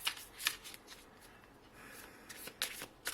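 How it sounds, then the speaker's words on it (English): Tarot cards are shuffled close by in quiet papery riffles, with a few sharp flicks and short pauses between. "let's pull some tarot cards here to get, of course, more clarity about the situation"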